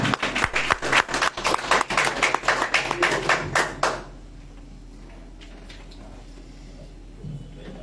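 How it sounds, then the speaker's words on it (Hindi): An audience at a poetry festival in Raebareli, Uttar Pradesh claps vigorously for about four seconds, dense and close, then the applause stops abruptly and leaves a quiet room. "आप सबसे मैं चाहता हूं जोरदार तालियां।"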